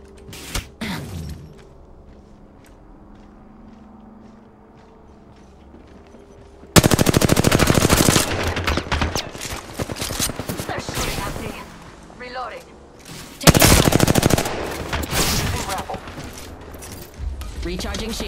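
Automatic weapon fire in Apex Legends comes in two dense, loud bursts of rapid shots, with quieter game sounds and a character's voice lines between them.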